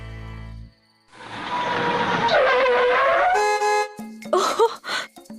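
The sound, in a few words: car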